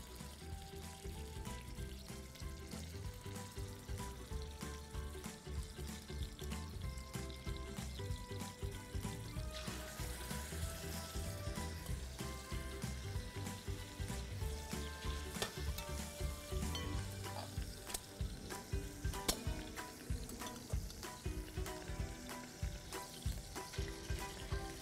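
Chicken frying in oil in a pan for a couscous-style chicken and vegetable dish, a dense continuous crackling sizzle lasting throughout with faint stirring and watery sounds, no talk.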